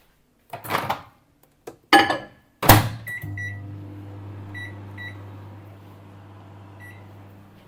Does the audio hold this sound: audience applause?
no